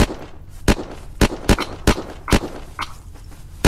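Gunfire in the Unturned game, a string of sharp, close shots at uneven intervals, each a short loud crack, with quieter thuds between.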